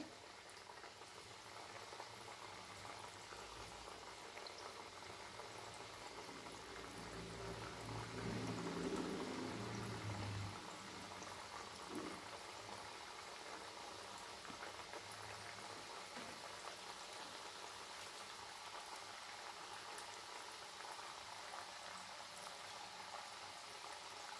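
Wheat flour namak pare fry in hot oil in a kadhai, giving a faint, steady bubbling sizzle that swells briefly as more pieces go in.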